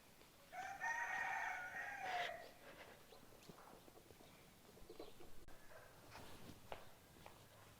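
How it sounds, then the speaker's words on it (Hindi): A village rooster crows one long cock-a-doodle-doo near the start on a winter morning, loud and close, followed by quieter rustling and faint background noise. "मुर्गा मेरा हस्बे मामूल अजाने दे रहा है"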